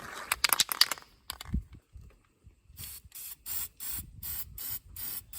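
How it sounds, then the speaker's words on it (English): A brief burst of spray, then a series of short aerosol spray bursts onto the exposed metal of a Toyota Tundra battery area in a steady rhythm, each a crisp hiss with quiet gaps between. "we're just spraying it on the exposed metal surfaces"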